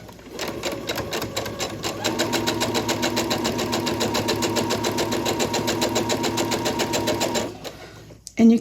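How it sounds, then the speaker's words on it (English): A sewing machine runs steadily at a short stitch length along a quarter-inch seam in an Ohio Star quilt block. It makes a close, even, rapid mechanical chatter for about seven seconds, then stops with a soft clunk. "I'm going to stitch with a 1/4 inch seam allowance."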